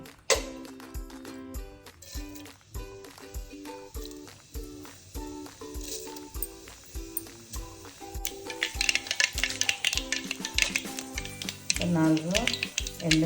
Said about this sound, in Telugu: అందులోకి ఒక 3 పావుల ఆయిల్ వేసుకొని జీలకర్ర, ఆవాలు వేసుకుందాం.